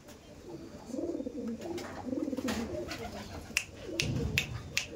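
Andhra pigeons for sale coo in repeated soft throaty phrases, a few at once, with sharp clicks and taps mixed in and a faint voice in the background.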